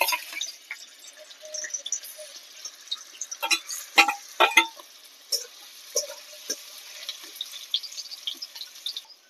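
Homemade paneer frying in hot oil in a kadai, sputtering with irregular crackles and pops that cluster into a busier burst midway, then thin out, with no talking.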